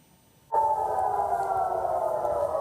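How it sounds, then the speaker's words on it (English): A loud, steady wailing air raid siren in Israel during an Iranian missile attack starts abruptly after a moment of quiet and holds its sustained tone. "Sirens sounded in Israel as Iran launched its initial response"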